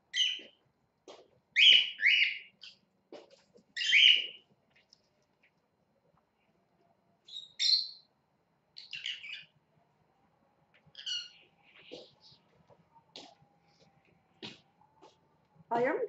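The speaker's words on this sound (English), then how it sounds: "She's the pearl bird that has some mutation." A pearl cockatiel with a mutation gives bursts of sharp, high chirps and squawks during handling for wing and nail care. The calls come in irregular clusters with quiet gaps between them, and a person speaks softly at times.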